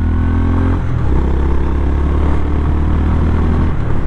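A Honda GB350S motorcycle rides off and accelerates, its single-cylinder engine giving a loud, close, low thumping drone that steps up in pitch as it pulls away.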